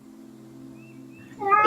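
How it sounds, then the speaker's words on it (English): A pet cat lets out a short, close meow at the end, rising out of a steady low electrical hum. "That's my cat. Ruining the moment."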